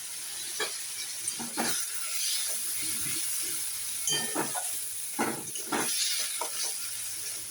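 Ginger-garlic paste frying in leftover fish-frying oil, a quiet hissing sizzle broken by several sharp spattering crackles and stirring scrapes, with no talking.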